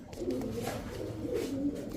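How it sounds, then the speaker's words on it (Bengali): A female racing pigeon, a black checker, coos in a soft, low, continuous burble close to the microphone. "পাইট রেসার একটা মাদি কবুতর"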